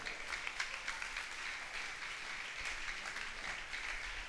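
Church congregation applauding, a dense, even wash of many hands clapping, heard somewhat distant and fairly soft, sustained throughout.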